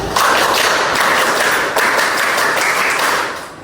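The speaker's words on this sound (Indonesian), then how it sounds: "Tepuk tangan buka." A scout group claps hands together during a Pramuka training session, a loud, close burst of many hands with a brief pause partway, then fading out toward the end.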